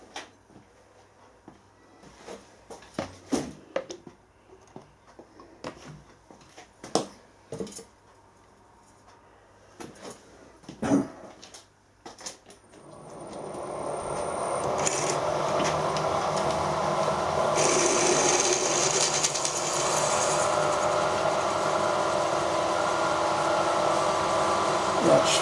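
Cobalt drill bits boring out a broken stud on a machine table, starting with scattered clanks and handling knocks, then a steady loud grinding whir of drilling into metal that continues to the end.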